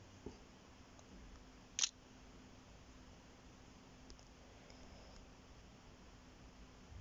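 A Honor 8X smartphone captures a photo, giving one brief, sharp shutter click over a low, steady background hiss.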